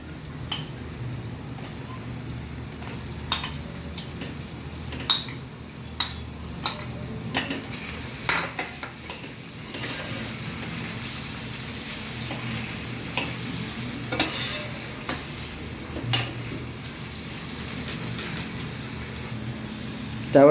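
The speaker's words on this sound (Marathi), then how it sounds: "आता त्याच्यामध्ये आपण कोलंबी टाकून घेऊया" Prawns fry in a masala base with a soft, continuous sizzle, broken by occasional light scrapes and ticks from stirring.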